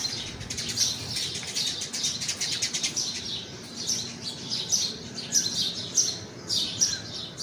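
Sparrows chirping near their nest, a lively, continuous stream of quick tweets at moderate distance with no voices.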